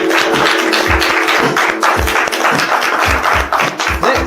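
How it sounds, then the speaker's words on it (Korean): An audience at a live event claps loudly and continuously, the broad wash of hands carried along by a regular, rhythmic thumping beat throughout, with no voices heard. "본인들을 위해서 박수 한번 부탁드리겠습니다"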